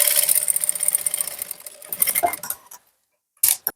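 A sewing machine runs while stitching a blouse sleeve, giving a steady rapid mechanical whir that slows and stops partway through, followed by silence and a short final burst of clatter.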